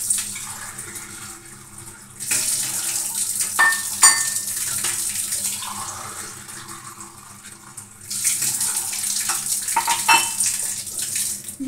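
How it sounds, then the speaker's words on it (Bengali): Tap water runs into a vessel, measured out for making tea in a home kitchen, a steady broad rush that starts around two seconds, eases off, then surges again near eight seconds, with faint clinks of the container. "জলটা মেপে নিচ্ছি"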